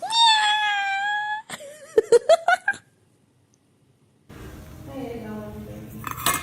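A cat meows clearly, then a quick run of clinking kitchen sounds like dishes and cutlery follows. After a pause, soft room noise and faint voices come in.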